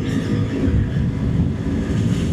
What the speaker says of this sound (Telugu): థ్రాటిల్ మొత్తం అది ఇచ్చేసా, బట్ టాప్ స్పీడ్ అయితే మనం చెక్ చేయలేము